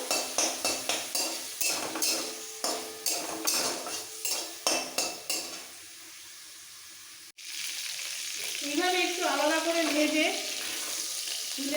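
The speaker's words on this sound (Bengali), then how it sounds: "এবার দেব নুন হলুদ গোলমরিচ মাখানো মাছগুলো এটাও ওলট পালট করে ভেজে নেবো" A run of rhythmic clinks and scrapes of a utensil on a pan, then a sudden loud burst of sizzling as fish pieces coated in salt, turmeric and pepper drop into hot oil, with a brief voice.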